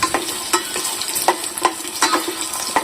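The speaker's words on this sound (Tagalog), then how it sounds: "Haluin lang natin." Adobo with potatoes is stirred in a pan, giving loud, close, rhythmic scrapes and knocks roughly every half second over a light sizzle, with no talking.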